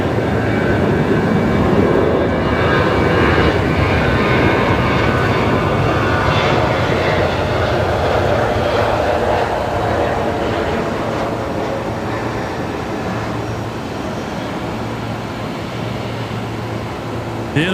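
Kalitta Boeing 747 freighter departing Brisbane Airport: a loud, broad four-engine jet roar, heaviest at the start and easing slowly as the aircraft climbs away, with no talk.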